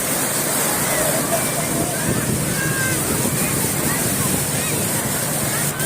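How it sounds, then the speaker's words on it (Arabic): Sea surf breaks along a beach in a constant loud wash, mixed with wind buffeting the microphone, with no pauses from start to finish. "البحر وجمال البحر يا جماعه"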